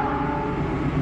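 A CC 206 diesel locomotive rumbles loudly and close at a station, with a sustained tonal drone that may be its horn sounding over the engine noise.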